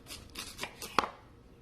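Knife slicing radish into thick cubes on a cutting board: a few quiet, crisp chops spaced irregularly, close and soft, with no talking.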